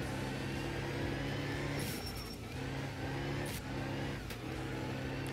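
Rally car engine in Art of Rally holding a steady, droning hum with harmonic bands that rise and dip as the throttle is feathered, continuous and fairly loud with no talking.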